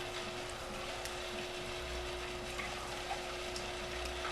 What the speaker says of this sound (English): The green star is a really robust juicer. It grinds up oranges quite well.